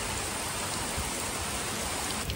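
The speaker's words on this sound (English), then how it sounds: "Got some more rain." Steady rain falls at a beach resort in St. Lucia, a soft, even hiss of drops pattering continuously at moderate distance, with no voices heard.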